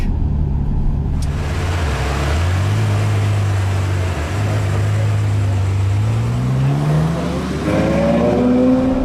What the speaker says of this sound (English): to be driving the very latest V12 from Ferrari in the motherland at Fiorano on track